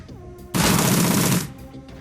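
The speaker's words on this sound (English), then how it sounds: "I'm gonna shoot you a lot" A dense burst of gunfire rips out for about a second in the Shadowrun: Dragonfall Director's Cut video game, loud and continuous, then cuts off, with a quiet background tone before and after.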